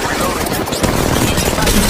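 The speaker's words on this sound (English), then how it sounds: "They're shooting at me." Rapid gunfire rattling in the video game Apex Legends Mobile, loud and continuous bursts of shots with a voice talking over part of the fire.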